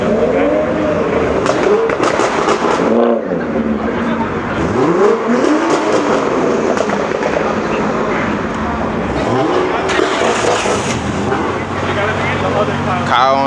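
A 2021 Toyota Supra called the Black Widow revs hard at a car meet, with repeated loud sweeping engine surges and throttle blips close by, then pulls away as people talk over the noise.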